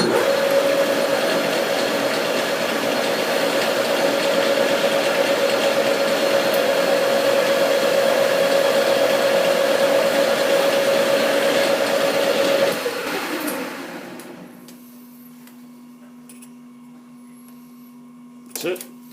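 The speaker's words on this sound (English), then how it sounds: "We'll slow the lathe down a bit and put a mark." A metal lathe turns a drive shaft with a steady, loud whirring hum and whine that winds down and fades after about thirteen seconds, leaving a quieter low hum.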